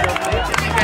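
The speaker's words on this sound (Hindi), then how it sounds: "ताली हो जाए छोटे छोटे बच्चों के लिए।" Audience at a school Republic Day celebration clapping for small children, a brief dense burst of applause mixed with crowd murmur.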